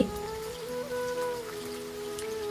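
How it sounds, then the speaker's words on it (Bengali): Steady rain falling and pattering on surfaces, an even wash of sound with a sustained tonal hum running underneath throughout. "বৃষ্টি এসে গেছে"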